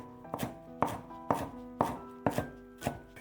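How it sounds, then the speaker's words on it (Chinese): A knife chops fresh cilantro into small dice for a radish pancake filling, with about seven sharp, close chops falling at an even, brisk rhythm and no voices. "给它切成小丁。"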